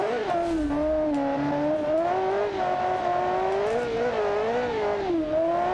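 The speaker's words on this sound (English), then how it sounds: "I'm grinding gears like crazy" A powerful 1300HP race car in BeamNG.drive accelerates with its engine note rising and dipping as the gears strain, a loud and steady drone that wavers up and down throughout.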